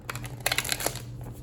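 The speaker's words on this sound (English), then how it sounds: "these cards are not shuffling this way" Tarot cards being shuffled by hand, a close, quick papery riffle and crinkle lasting about a second over faint low background hum.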